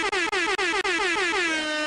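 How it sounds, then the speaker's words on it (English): A loud, close air horn blares in a series of short repeated blasts separated by brief gaps, then holds into one sustained tone that slowly trails off, with no voices over it. "After I do a quick air horn, watch your ears."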